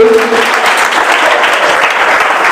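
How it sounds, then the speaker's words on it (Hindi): A short, loud, steady burst of audience applause fills a Teacher Day celebration, with many hands clapping densely and evenly throughout. "जोरदार तालियां होनी चाहिए"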